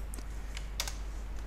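Code is typed on a computer keyboard: a few quick, light key clicks in a short burst, close but faint over a low steady hum, with no talking.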